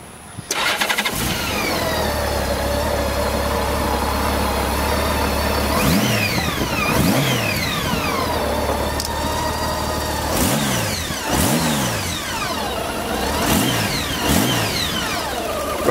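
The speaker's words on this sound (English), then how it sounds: "We'll go ahead and crank her up for you." A 2008 Honda GL1800 Goldwing touring motorcycle cranks over and catches, then settles into a smooth, steady idle with several quick throttle blips that rise and fall, recorded close by with no talking.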